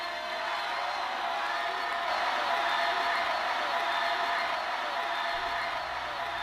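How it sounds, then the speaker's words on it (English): A crowd screaming and cheering at a live DJ set in Red Hook, a dense sustained roar of voices and whoops, loud and steady throughout, with music underneath. "Somebody scream!"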